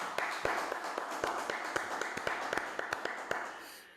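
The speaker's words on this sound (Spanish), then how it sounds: "démosle un aplauso a Roberto Solombrino" A small audience claps for Roberto Solombrino, a steady patter of individual hand claps with a few sharper, closer ones standing out, fading near the end.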